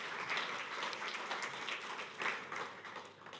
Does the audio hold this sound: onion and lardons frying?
no